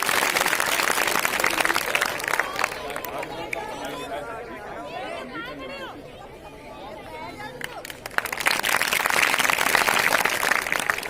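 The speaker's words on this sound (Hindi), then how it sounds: "अमन के लिए एक बार जोरदार तालियां हो जाए" Audience applause at a school award ceremony at a science inter college, with clapping and crowd chatter that swells loud, thins in the middle under voices and babble, then surges back strongly near the end.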